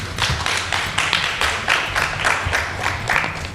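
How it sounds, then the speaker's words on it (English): Brief applause from a panel event audience, a close, loud burst of clapping with uneven rhythmic hand claps. "Another loud round of applause"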